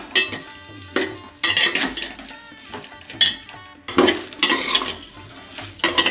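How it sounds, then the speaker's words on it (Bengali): A spoon scrapes and clanks against a pot as rice is stirred with oil and spices for basanti dom pulao, in irregular bursts of scraping with a light sizzle underneath. "এবার একটু ভালো করে এটা নেড়ে নেবো"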